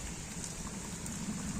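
Heavy rain mixed with hailstones pours steadily over a village home, a dense, continuous hiss and patter of drops striking surfaces, with a few slightly sharper impacts standing out.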